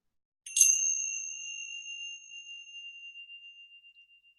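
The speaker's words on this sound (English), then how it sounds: "So I'm going to ring my little bell now." A small meditation bell is struck once, giving a clear bright ding with two steady tones that ring on and slowly fade over several seconds in an otherwise quiet room.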